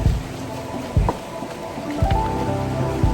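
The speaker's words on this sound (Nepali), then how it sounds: "ल अब यो खोला चाहिँ यो उतर्ने" A mountain stream rushes steadily on a long hike between Bhalam and Aatighar, forming a continuous close wash of water with a few duller splashes and thumps; no one speaks.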